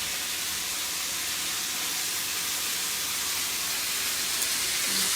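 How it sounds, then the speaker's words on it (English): Onions sizzling in a pan beside chicken for chicken marsala, a continuous bright, even hiss close by with no pauses and no talk. "Now we're going to add my onions"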